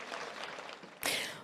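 Crowd applause for the President of the Republic at an official opening ceremony, a burst of clapping rising sharply after a murmur of background noise.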